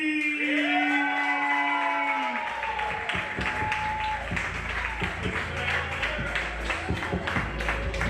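Audience at an open mic night breaking into applause and clapping with some whoops, a dense steady crowd sound lasting several seconds after a musical tone fades out.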